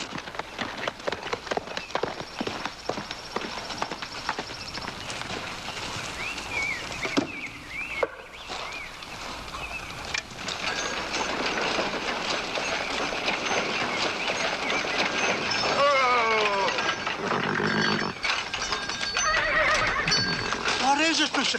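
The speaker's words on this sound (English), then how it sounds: "He left his horse here." A horse whinnies and its hooves clip-clop on the ground in a western frontier drama, mixed with people talking and other busy scene noise throughout.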